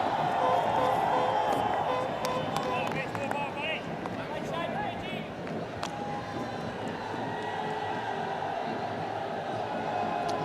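A big, hot-weather cricket crowd fills the ground in Bangladesh, a steady broad murmur of many voices holding throughout at moderate loudness, with a commentator talking over it.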